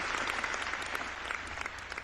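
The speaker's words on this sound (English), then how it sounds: "Round of applause for her properly" A podcast studio audience claps for a guest, a short burst of dense, lively applause that stays close and steady, with no voices over it.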